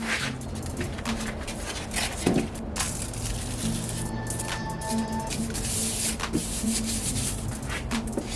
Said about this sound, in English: trace around it with a marker